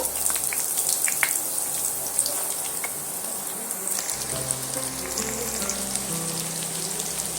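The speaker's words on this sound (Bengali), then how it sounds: "আলুগুলো তেলের মধ্যে দিয়ে আমি সুন্দর করে লাল লাল করে ভাজা করে নেব" Boiled potatoes for Kashmiri aloo dum fry in hot oil with a steady, even crackling sizzle that carries on throughout without pause.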